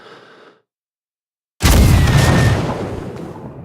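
In Rising Storm 2, an RPG launcher shot bursts out after a short silence, a loud booming blast with a whooshing edge, followed by a long echoing tail that slowly decays.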